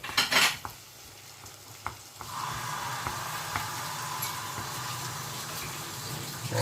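An onion omelette cooking in a frying pan: a few light clinks of utensils at first, then a continuous gentle sizzle that settles in and holds steady, fairly quiet, with no one speaking.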